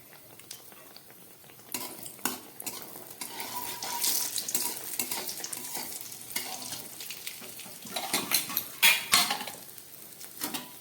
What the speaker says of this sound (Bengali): প্রথমে আমি কয়েকটা বড়ি ভালো করে ভেজে নিই